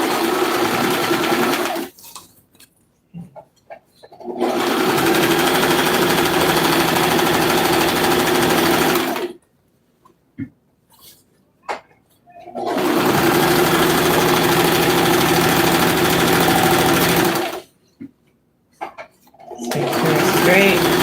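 A sewing machine stitches a stiff apron fabric and its straps in three long, steady motor-driven runs separated by short pauses, loud and close, with brief talk in the gaps.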